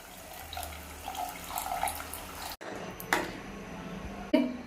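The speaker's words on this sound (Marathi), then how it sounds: "पाणी ऍड करणार आहोत" Water poured from a vessel into a pan of fried egg gravy masala, a steady watery splash that breaks off halfway, then a few short clinks and a closing splash, close and alone.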